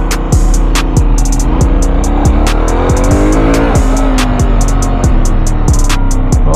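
A Leoncino Trail 800 motorcycle engine starts and revs close up, loud and steady, its pitch climbing and dropping through repeated throttle blips, with no talking.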